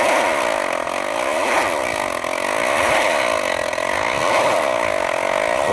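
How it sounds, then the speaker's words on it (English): A SteppIR antenna stepper motor runs on manual control, a steady whirring buzz with a sweeping rising-and-falling pitch pattern, loud and close, with no other sounds. "So here's a stepper starting up."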